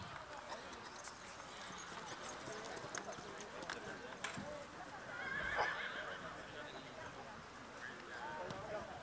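At a horse auction, a horse neighs loudly near the middle while hooves clop in the background and people talk almost throughout.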